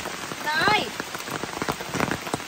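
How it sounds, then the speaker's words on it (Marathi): Heavy rain falls steadily in a Konkan village, a dense, constant hiss of drops on surfaces, with a brief voice rising over the downpour. "आज पाऊस खूपच"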